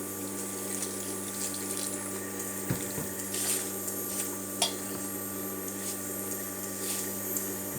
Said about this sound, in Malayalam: വെള്ളം ഒഴിക്കുകയാണ് ഞാൻ